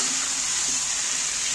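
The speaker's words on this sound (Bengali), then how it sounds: "এবারে তেলের মধ্যে আমি একটু নাড়াচাড়া করে নিচ্ছি" Yogurt-marinated chicken is stirred in hot oil, giving a steady, close hiss of frying with no pauses or voices.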